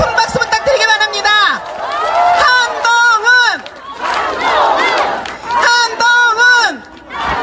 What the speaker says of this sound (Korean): 큰 박수 부탁드리기 바랍니다